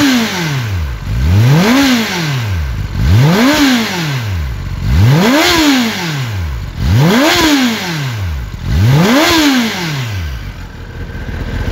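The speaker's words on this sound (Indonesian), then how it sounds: "itu dia suara dari Kawasaki ZX10R warna grey" A grey Kawasaki ZX-10R four-cylinder sportbike revved five times in a regular rhythm, each sweep rising sharply in pitch and dropping back to idle, loud and close with no talking.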